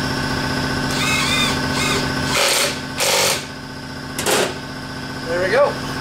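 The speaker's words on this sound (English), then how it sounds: "use the impact to run it in" An impact wrench runs a bolt into the fork of a KLX300 dirt bike in a workshop, firing in a few short, loud rattling bursts over a constant machine hum.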